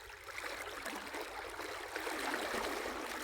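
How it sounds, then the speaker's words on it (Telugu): A village stream flows with a steady, soft rushing and gurgling wash of water, continuous and fairly quiet, with no voices. "ఇదిగోండి మా ఊరు వాగు."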